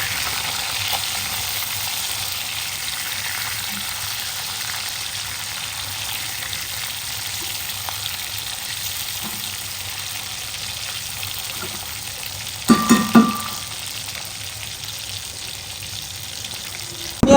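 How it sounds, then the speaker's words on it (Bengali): A small hilsa fish fries in a pan with a steady, soft sizzle throughout, broken by a brief clatter near the end. No voices are heard. "ইলিশ মাছ ভাজা বসাই দিচ্ছি"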